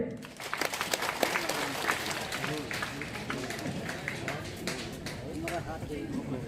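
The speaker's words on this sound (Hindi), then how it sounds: "सब तालियां मारिए।" An audience at a reception program breaks into steady applause, a dense patter of many hands clapping at moderate distance, mixed with voices in the crowd.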